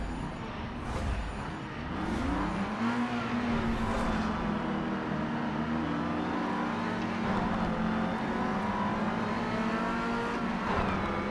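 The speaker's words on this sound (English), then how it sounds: "You'll hear that the engine is still pretty damn quiet." A quiet car engine in the racing game Project Cars 3 hums steadily and close, its pitch climbing briefly early on before holding an even drone under faint road and tyre noise.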